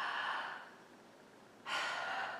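Two slow, audible breaths drawn in through the mouth during a guided breathing exercise, soft and airy, separated by a quiet pause, with no speech.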